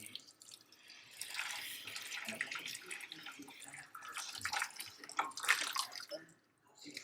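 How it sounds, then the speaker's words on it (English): Cooking juices poured slowly over four large short ribs in a pan, a soft continuous trickling and splashing pour with faint dribbles, quiet and close, no talk. "we have these juices ready to pour over the short ribs here in this pan"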